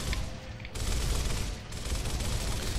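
Dense, crackling bursts of rapid gunfire in the video game Gears of War sound throughout, loud and continuous with a couple of brief breaks.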